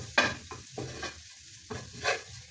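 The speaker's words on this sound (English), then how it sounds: "and then you stir." A flour and milk mixture is stirred in a hot pan, several short scraping strokes of the utensil over a soft sizzle, with brief quiet gaps between the strokes.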